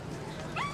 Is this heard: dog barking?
yes